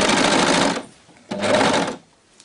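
An overlocker sews the inner leg seam of leggings in two loud, close bursts of rapid stitching, separated by a short pause.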